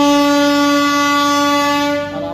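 An 8-coach MEMU local train sounds a loud, sustained, steady horn tone up close, holding a single chord before it fades slightly at the end.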